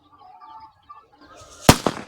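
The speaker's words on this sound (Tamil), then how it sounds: "நாங்க தான் பட்டாசு அடிச்சோம்" Firecrackers burst outdoors, two sharp loud pops about a fifth of a second apart, following quieter birdsong and rustling.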